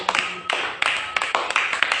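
A church congregation clapping for Jesus during a sermon, a short burst of uneven, close, crisp handclaps in quick irregular rhythm.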